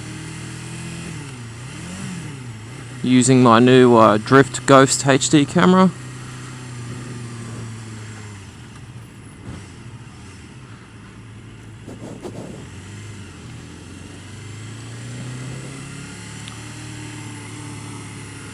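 A 1989 Honda CBR 250R runs on the road, its engine droning and revving in the background with wind rush while a rider talks over it, a loud rising burst of revs briefly standing out.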